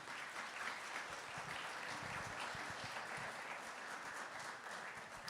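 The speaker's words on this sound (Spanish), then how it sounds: "Denle un aplauso al Señor en esta mañana." A church congregation applauds during a Sunday morning service, steady dense clapping filling the room without a break.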